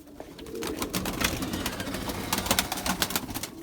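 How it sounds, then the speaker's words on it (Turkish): Pigeons kept as pets, including white young birds, heard close by as a dense flock soundscape with soft coos, wing flutters and scattered clicks, steady throughout with no speech. "Bakın kuşları görün."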